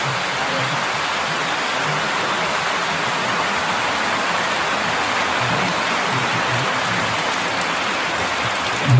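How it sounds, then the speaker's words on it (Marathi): Heavy monsoon rain pouring at Sinhagad fort, a dense, loud, continuous hiss of downpour with no break and no voices. "केवढा धोधो पाऊस पडतोय."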